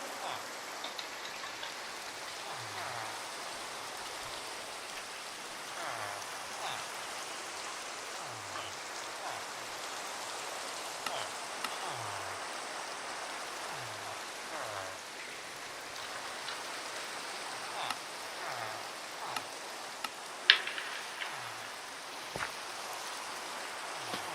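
Steady rain pours down in a video game, a continuous close hiss of drops on surfaces with a soft recurring low thump every second or so and an occasional sharper tap, with no voices.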